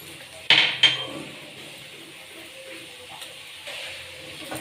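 Fish chop filling with lemon juice and chopped coriander is stirred in a bowl, opening with two sharp clinks of a utensil against the bowl, then a soft, steady scraping and mixing at close range.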